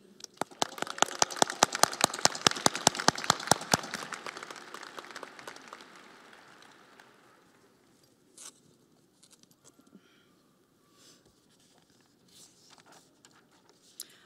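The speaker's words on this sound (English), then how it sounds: "Let us all take a moment to applaud the important people in our lives who have helped us" A commencement audience claps in a burst of brisk, dense applause that fades away over several seconds, leaving a quiet hall with scattered shuffles and small noises.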